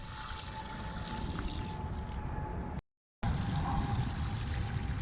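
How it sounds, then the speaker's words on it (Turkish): Water pours steadily onto the soil around a newly planted olive tree in a garden, a continuous close splashing trickle broken by one brief silent cut. "Şimdi can suyunu veriyoruz."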